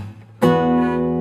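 Electric guitar plays a sustained chord with a sharp attack after a brief quiet lead-in, ringing clearly and alone for about a second, part of measure 12 of a song.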